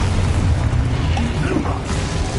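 Expulso spell explosion in Hogwarts Legacy, a loud low booming blast with a rumbling tail, no voices.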